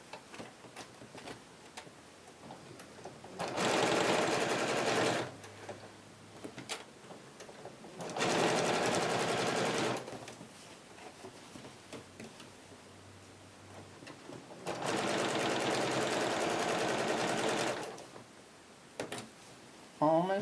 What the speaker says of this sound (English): If you have a Janome, lucky for you, this machine has not said a peep about going through all these layers